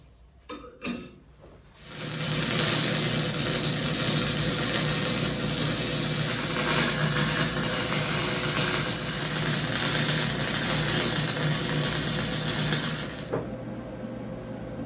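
Welding a spare tire carrier onto a trailer bumper produces a loud, steady, continuous buzzing crackle for about eleven seconds, with a few brief knocks just before it starts.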